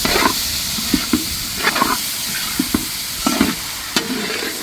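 Browned onions and tomatoes frying in a pan for a fish curry, a continuous hiss of sizzling broken by regular scraping stirs, close and loud, with no voices.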